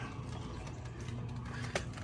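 Ratcheting wrench clicks work loose the control arm bolts on a raised Jeep Gladiator with its rear tires removed, a steady close mechanical rasp of pawl clicks running throughout with one sharper snap near the end.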